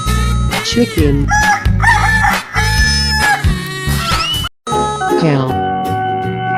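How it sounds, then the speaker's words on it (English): A cartoon chicken clucks and a rooster crows loudly in a children's animal slide game, the calls repeating in quick bursts alongside bright voices and playful effects. "chicken"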